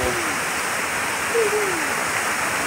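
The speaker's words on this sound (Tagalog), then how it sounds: "Yan siya, oh. Bolinao Falls." Steady broadband rush of Bolinao Falls, a waterfall in Pangasinan, Philippines, heard close and continuous, with brief voices and a faint whistle-like tone over the roar.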